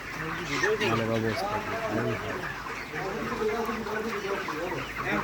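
Broiler chickens cluck and chatter continuously inside a farm shed in hot weather, a dense flock murmur close by with a voice talking over it throughout.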